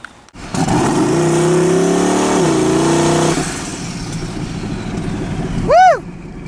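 A 1994–2001 Dodge Ram with a boosted engine revs up and accelerates, holding a loud steady drone for a few seconds before easing off, with a brief whine swell near the end.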